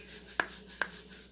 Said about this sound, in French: Vous voyez, je fais mon gommage